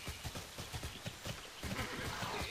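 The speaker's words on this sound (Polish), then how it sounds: "Jeszcze na koniec wsiądę wam na konia." Horse in a video game, hooves clip-clopping in a quick even rhythm with a neigh, close and fairly loud over a bright noisy background.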